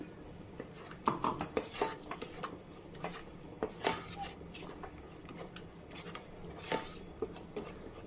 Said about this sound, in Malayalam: നല്ലപോലെ ഒന്ന് ഇളക്കി കൊടുക്കാം.